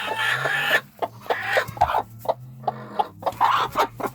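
A broody hen clucks in short, agitated bursts while being caught. The calls come irregularly and close up, with scuffling between them.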